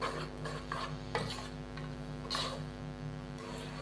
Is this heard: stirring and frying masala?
yes